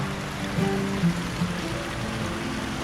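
Water runs steadily through an open fish-raising channel at a royal project farm in the cold hills near Chiang Mai, a soft continuous stream-like flow with faint trickles, nearby and alone.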